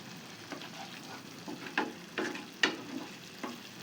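Masala being sautéed in oil in a pan for egg korma, a soft continuous sizzle broken by several sharper scraping stirs of the spoon, close and fairly quiet.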